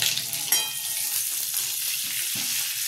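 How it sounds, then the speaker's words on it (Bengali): A spoonful of butter hits hot oil in a pan and sends up a loud burst of sizzling that settles into a steady, bright crackle, with a soft scrape near the end. "তেলটা গরম হচ্ছে, তাতে 1 স্পুন মতো আমরা বাটার অ্যাড করব"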